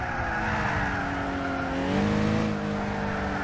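Rally car engine in Gran Turismo 6 revving loud and up close, a sustained buzzing drone whose pitch climbs and swells near the middle before settling, with tire noise underneath and no talk.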